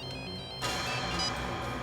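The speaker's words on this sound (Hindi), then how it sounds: "लगता है उसका फोन आ गया।" A telephone rings with an incoming call, a faint electronic tone that starts abruptly partway through and carries on as a steady, soft ringtone with no voices.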